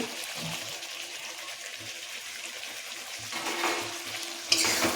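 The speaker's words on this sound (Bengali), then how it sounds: "মশলাটা খুব ঘন হয়ে গেছে, চিংড়িটাকে এবার ঢেলে দেব।" Prawns slide into a thick masala in a pan and fry with a soft, steady sizzle, stirred with gentle scrapes and swelling toward the end, close and fairly quiet, with no talking.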